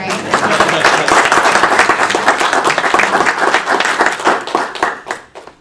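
Applause from the attendees at a school board special meeting, loud and close, many hands clapping steadily for several seconds before tapering off, with faint murmurs of voices mixed in.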